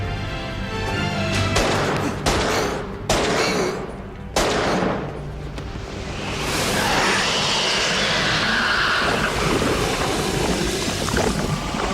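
Gunshots sound in a TV drama scene, with several sharp cracks in the first few seconds over a dense, loud background that turns into a sustained roaring wash of noise.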